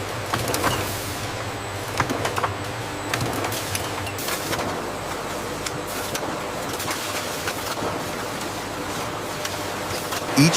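A kiwi syrup bottling machine running in a factory, a continuous busy mechanical whir with repeated clicks, clatters and squeaky creaks layered over a steady low hum.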